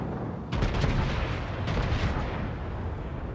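The Tirpitz, a Tier 8 Kriegsmarine battleship in World of Warships, fires its big guns in two loud salvos of booming blasts, each followed by a rolling rumble that decays beneath steady sea and engine noise.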